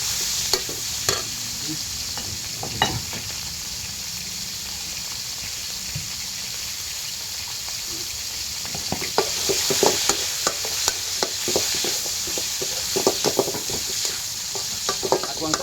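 Continuous sizzling of water spinach stir-frying in hot oil in a pan, with scattered scrapes and clatters of stirring growing busier toward the end.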